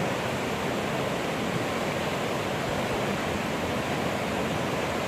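Steady, loud roar of rushing river water at a waterfall, a continuous broadband wash with no breaks and no voices over it.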